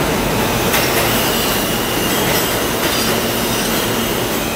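A New York subway train rumbles loudly and continuously, with steady broadband rail noise, wheel clatter and faint squeals throughout, close and without talk.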